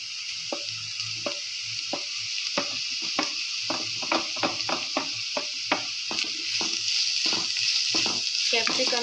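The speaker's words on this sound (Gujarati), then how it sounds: "ગાજરને બી ડુંગળીના જેમ આપણે શેકાવા દઈશું ગાજર બી શેકાઈ ગયા છે" Carrots and capsicum frying in a pan for upma give a steady close sizzle punctuated by frequent rhythmic spatula taps and scrapes against the pan, with no talk.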